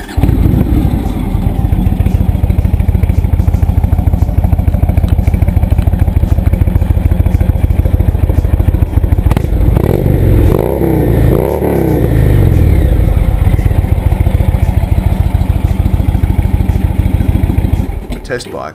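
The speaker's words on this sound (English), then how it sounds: "The test bike was fitted with Indian Stage 1 exhausts and fishtail extensions." Indian Dark Horse motorcycle fitted with Indian Stage 1 exhausts and fishtail extensions, its loud, deep engine rumbling steadily throughout with a rise in revs midway before settling back.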